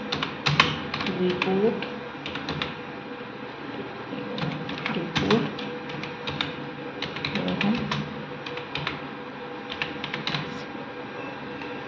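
Keys clatter on a computer keyboard in irregular bursts of clicks while a Hindi-speaking voice talks over the typing throughout.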